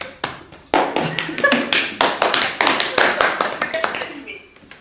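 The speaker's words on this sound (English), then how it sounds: "Can we have a round of applause for Georgie, please?" A small live-show audience gives a round of applause, a few hands clapping in quick, uneven bursts that swell and then taper off toward the end.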